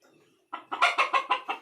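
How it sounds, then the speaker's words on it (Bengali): Sonali laying hens give a short burst of about five rhythmic clucks, close and fairly loud, after a brief quiet start. "এই হচ্ছে আমার ডিম পাড়া সোনালি মুরগি"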